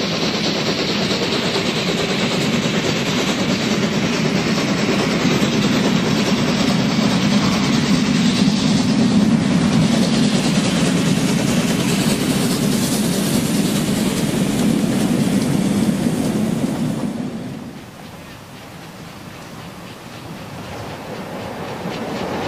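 A four-cylinder compound steam locomotive, class IV K, runs past steadily, a dense continuous roar of exhaust and rolling wheels for most of the stretch, then drops abruptly to a quieter rumble near the end.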